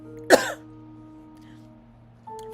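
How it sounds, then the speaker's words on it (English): A single short, sharp cough close to the microphone, followed by quiet room tone and a brief voice at the end. "Very random coughing."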